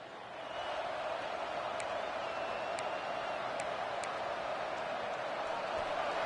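Stadium crowd noise from an EA Sports College Football video game, Georgia Tech against Wisconsin: a steady, dense roar holding at one level throughout, with a few faint whistle-like tones rising above it.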